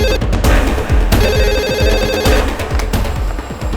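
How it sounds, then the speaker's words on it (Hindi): A telephone rings continuously over a noisy, rumbling background, the ringing tone steady and fairly loud throughout. "रिंग जा रही पर उठा नहीं रहे।"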